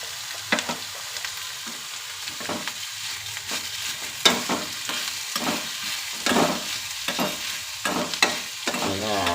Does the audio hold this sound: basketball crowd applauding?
no